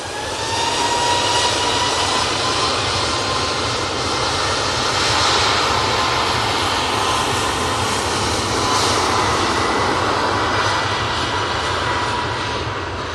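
Ryanair Boeing 737 MAX 8 with all-blue winglets, its jet engines roaring steadily and close at Manchester Airport, a sustained broadband rush with a faint whining tone running throughout.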